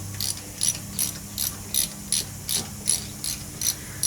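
A ratchet wrench loosens a bolt on a Dixon 72 ZTR mower in rapid, evenly spaced metallic clicks, about a dozen close-up strokes with no one speaking.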